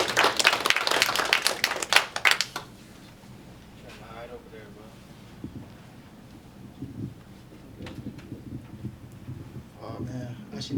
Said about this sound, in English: Yeah, all right, clap for him, please.